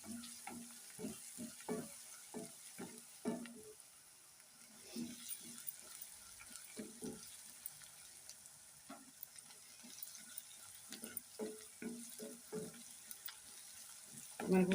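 Onions fry until golden brown in a pan, giving a quiet, low sizzle broken by repeated soft clinks and scrapes of a spoon at an irregular rhythm, close but faint.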